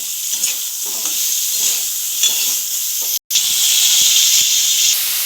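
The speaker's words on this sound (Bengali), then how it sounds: "ওইদিকে আমাদের ফুলকপিটা ভাজা হচ্ছে" Cauliflower pieces fry with turmeric and salt in a pan, giving a steady close sizzle and hiss with occasional stirring scrapes, and a brief dropout about two-thirds of the way through.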